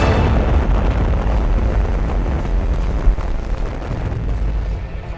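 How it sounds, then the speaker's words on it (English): A supernova explosion sound effect: a loud, deep, rumbling roar that sustains throughout with rolling low-end turbulence and a brief sharper burst midway, with no voices. "it produces shock waves that cause the outer part of the star to explode in a supernova explosion"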